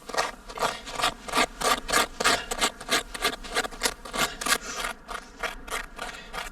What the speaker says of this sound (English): the small pair of scissors which he used as a tiny ice axe, carving steps in the ice for his hands and feet